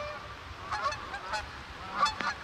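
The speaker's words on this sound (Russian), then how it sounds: "На меня налетают серые канадские гуси." Canada geese honking a few times, moderately close, over a low steady background rumble, at a salmon fishing spot in America.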